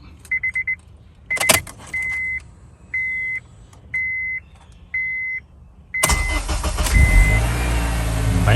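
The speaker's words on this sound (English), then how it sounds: "It should start right up." A Honda Accord with a newly installed starter: a run of evenly spaced electronic chime beeps, then the engine cranks briefly and catches, settling into a loud, steady running sound close by.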